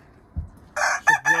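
A loud rooster crows nearby, a strained, breaking cock-a-doodle-doo in short bursts after a soft thump.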